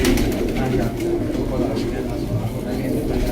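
Kasni Ferozpuri pigeons coo in low, throaty murmurs, the soft rolling calls close by and continuous through the brief moment.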